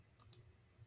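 A computer mouse gives two quick, crisp clicks close together in a quiet room.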